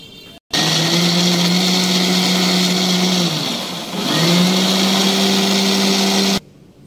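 An electric grinder whirs loud and steady as it blends garlic, chili and vegetables into a paste, its motor pitch dipping briefly midway as the load shifts, then resuming before cutting off abruptly.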